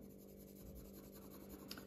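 Colored pencils shade flower drawings on paper with a light, careful touch, making a faint, steady, close scratching that runs without a break.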